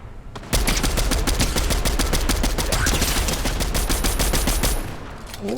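Rapid automatic gunfire from a video game gun, a loud, dense burst of overlapping shots firing continuously for several seconds before stopping abruptly.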